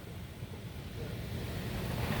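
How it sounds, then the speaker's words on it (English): Gusty wind roars steadily during a big storm in Utica, Michigan, a broad rushing noise with microphone buffeting that swells slightly louder toward the end. "It's windy."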